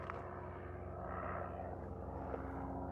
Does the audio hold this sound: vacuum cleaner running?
no